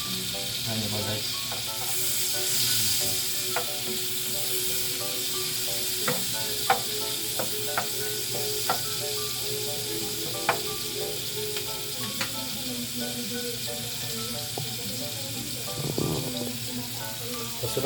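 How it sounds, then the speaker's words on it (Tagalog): Garlic and onion sizzle steadily in a hot pan before shrimp go in, a constant close frying hiss with scattered sharp pops and crackles, broken by brief scraping stirs. "Susunugin natin konti ang bawang at sibuyas."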